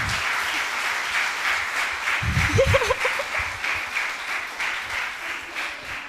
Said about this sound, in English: can we have a big round of applause for ma'am?